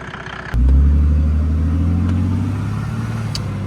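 A Mercedes W210 with an OM606 diesel engine, injection-upgraded and boosted, fires into a loud, steady idle rumble that gradually settles lower and quieter.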